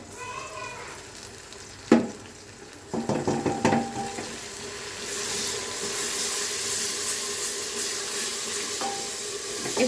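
Spices and fennel seeds frying in oil in a pan, a few clinks and stirring knocks early, then a steady sizzle that builds and holds.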